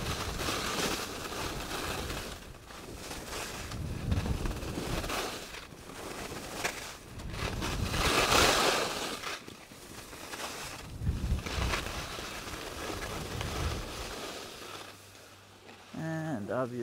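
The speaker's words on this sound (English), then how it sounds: "So a little bit of a cold and windy day today." Wind roars across a ski slope at Breckenridge on a cold, windy day, gusting in broad loud surges that rise and fall for most of the stretch before dropping away near the end.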